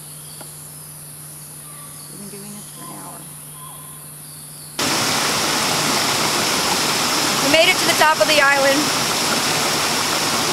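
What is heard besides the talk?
jungle stream, the island's water source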